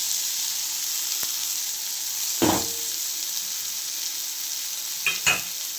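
Masala frying in a pan for a chickpea (kadalai) sambar, giving a loud, constant hissing sizzle close by, broken by a few sharp utensil knocks against the pan.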